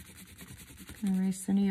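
A rubber eraser scrubs pencil lines off paper from a bumblebee sketch, making a few short, close rubbing strokes.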